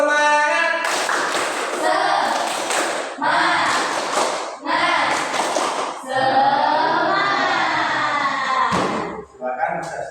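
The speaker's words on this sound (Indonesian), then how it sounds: "Sebelum kuis, tepuk semangat." A classroom group does a rhythmic spirit clap before a quiz, with several bursts of many hands clapping in patterns and voices chanting along throughout.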